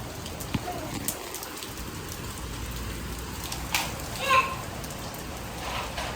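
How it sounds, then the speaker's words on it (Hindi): Heavy rain falls outside in a steady close hiss of drops on surfaces, with a few faint louder knocks and distant background sounds mixed in. "आप देख सकते हैं कि इतनी अच्छी बारिश हो रही है कि मैं आपको क्या ही बताऊं।"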